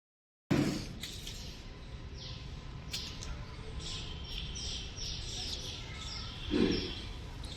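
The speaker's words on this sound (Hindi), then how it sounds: "चिड़ियाओं की आवाज़ आ रही है" Small birds chirp and tweet in a quiet park in Gwalior, light scattered calls at moderate distance over a soft ambient hush, with a couple of louder low thumps near the start and end.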